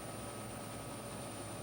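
A helicopter in a stable hover, its main and tail rotors producing a steady, even drone with a constant hum and no breaks, heard quietly and alone throughout.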